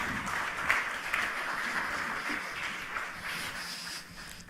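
Applause from a conference audience welcoming speakers to the stage at a property portal industry event in Bangkok, a steady moderate patter of many hands clapping across the room with no voices over it.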